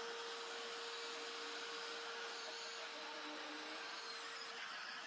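A Parkside PHKSA 12 B3 12V cordless circular saw runs through a cut with a steady, even motor whine and hiss that holds throughout, fairly close and alone with no speech.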